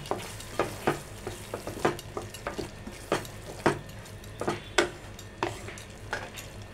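Paneer and fresh cream stirred in a pan with a utensil, a run of soft, regular scrapes and taps over a quiet background sizzle.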